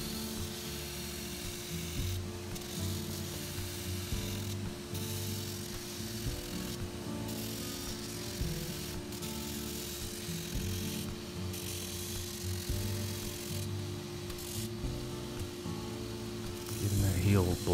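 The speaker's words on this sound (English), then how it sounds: "you've got 24 grit sandpaper going really fast, so you're being careful." A boot heel on custom python-skin boots is sanded with fast-running 24-grit sandpaper, giving a steady, fairly faint abrasive rasp that runs continuously and swells louder near the end.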